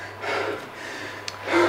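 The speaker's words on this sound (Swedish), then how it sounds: "Låter man flåsa lite." Heavy, breathy panting from someone resting after a hard ski erg interval: several close, loud breaths in an uneven rhythm, with nothing else heard.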